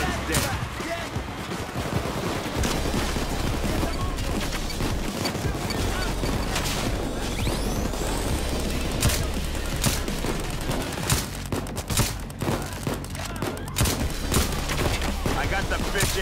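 Video game gunfire rattles almost nonstop in dense, overlapping bursts and volleys, loud and close, with voices shouting over the shooting.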